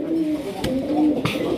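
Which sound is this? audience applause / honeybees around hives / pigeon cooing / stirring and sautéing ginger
pigeon cooing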